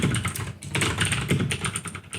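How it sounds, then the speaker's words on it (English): A computer keyboard is typed on during a podcast recording, giving a fast, steady patter of clicky keystrokes that sounds close to the microphone, over a muffled background. "your keyboard's loud"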